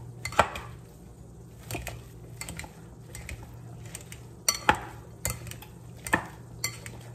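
Fried onion with butter and achiote being stirred into a potato tortilla mixture in a pot, giving scattered utensil scrapes and clinks against the pot at an irregular rhythm, close and fairly clear with no talking.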